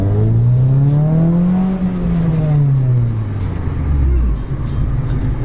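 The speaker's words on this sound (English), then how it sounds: "So this is just the standard exhausters on it with a sports cat." A Honda Civic Type R EK9 with its standard exhaust and a sports catalytic converter revs loudly nearby, the engine note swelling and falling in a long, smooth pull before settling into a lower drone.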